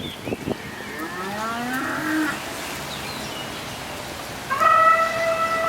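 Animal bellows from statue sound effects in Thailand, sounding like trumpeting moos, one long call early and a louder, brassy blast near the end, over continuous background noise.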